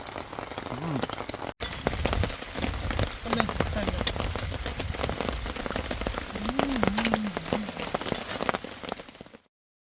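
Steady rain falls and patters on surfaces at a fishing campsite in Mae Puem National Park, a dense continuous hiss lasting throughout, with faint voices briefly beneath it.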